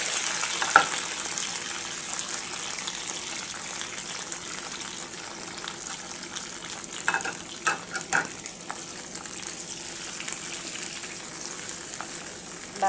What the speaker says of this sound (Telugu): ఈ విధంగా ఆయిల్ అనేది కొంచెం వేసుకొని మనం కట్ చేసుకున్న ఇవన్నీ వేసుకొని ఫ్రై చేసుకోండి